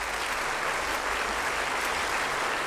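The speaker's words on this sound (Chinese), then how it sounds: "首先，让我们以最热烈的掌声欢迎刚从海外归来的秦思思女士。" Steady, dense applause from a gathered audience fills a company share-transfer ceremony, sustained clapping without pause.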